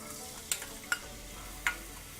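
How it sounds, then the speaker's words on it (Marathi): Half an onion sautés in a little hot oil for kadhi, giving a soft continuous sizzle with a few sharp spoon clinks against the pan. "तेल गरम झालं की आपण जो अर्धा कांदा ठेवलाय तो आपण त्याच्यात परतून घेऊया"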